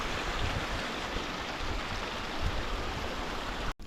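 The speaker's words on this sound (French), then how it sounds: "Regardez cette cascade." A mountain waterfall makes a steady, broad rushing roar heard from some distance, a constant wash of water noise without other sounds.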